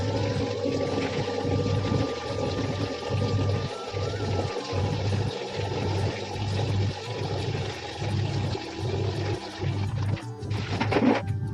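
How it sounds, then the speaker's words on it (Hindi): Water gushes into buckets at home while a washing machine runs nearby, a steady rushing stream layered over the machine's rhythmic low thumping, ending with a louder burst of splashing. "मैंने लगा दी है मशीन और वहाँ भर रहा है बाल्टियों में पानी"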